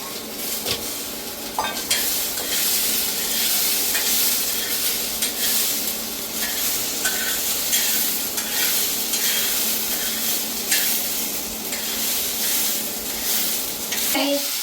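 Constant dry sizzling and rustling of fresh green peas roasting in a hot pan, with occasional scraping stirs, continuing steadily with no talk.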